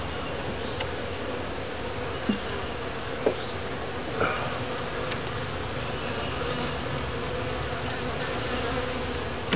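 Honeybees buzz continuously around the listener at a hive, a steady droning hum with a few louder passes flying close.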